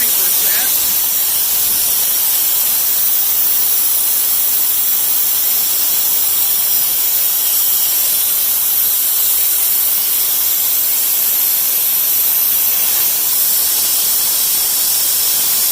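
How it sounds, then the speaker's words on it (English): Propane rushes through a hose into a tractor's tank from a bleeder tank, a steady, loud, broadband hiss that holds unbroken for the whole stretch with no clear speech over it. "It's rushing in because we're getting lower pressure over here, higher pressure over there."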